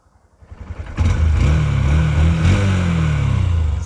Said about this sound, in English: It's a very smooth sounding engine.